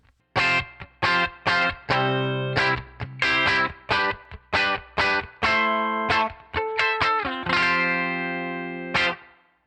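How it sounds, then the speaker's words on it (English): Distorted electric guitar plays a series of short, punchy chords and notes, each trailing into a springy reverb wash from a Headrush Spring Guru or spring reverb, ending on a longer sustained chord. "It sounds like a Spring Reverb."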